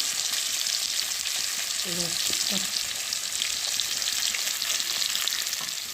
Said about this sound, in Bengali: মাছটা মানে একটু ভাজা হয়ে গেছে